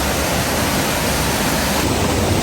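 Bhatta Falls in Uttarakhand pours steadily, its rushing water making a loud, dense, unbroken roar close by, with no voices.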